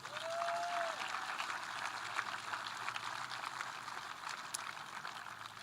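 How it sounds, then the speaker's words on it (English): Outdoor high school graduation crowd on a field at night applauding the band that led the graduates in: a continuous wash of many distant hands clapping at an even level throughout, with a brief high tone near the start. "Round of applause for them."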